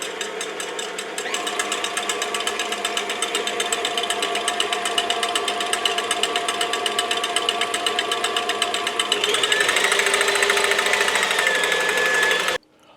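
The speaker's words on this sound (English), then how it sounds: "we're gonna let this go in the mixer until we get some nice" An electric stand mixer whips heavy cream in a steady, loud mechanical whir with a rapid rattling pulse, its tone shifting partway through before it cuts off abruptly.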